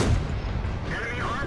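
A tank cannon fires in the World of Tanks video game, Convoy mode on the Lanchester map, as a single heavy boom heard up close with game noise behind it.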